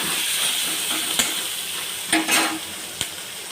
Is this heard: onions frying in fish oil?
yes